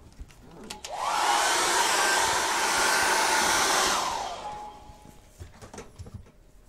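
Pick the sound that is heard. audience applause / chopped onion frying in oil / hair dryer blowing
hair dryer blowing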